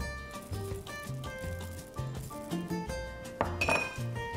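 Chocolate oat cookie mixture with cardamom and pistachios stirred in a bowl: soft repeated clinks and scrapes of a utensil against the bowl in an uneven rhythm, quiet and close, with no talk.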